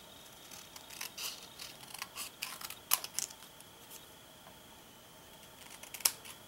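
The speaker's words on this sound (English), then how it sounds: "Then I'm going to cut a banner." Scissors snipping through a paper banner for a Hershey Kiss basket craft, a series of short crisp cuts in irregular bursts with quiet pauses between, close up and alone.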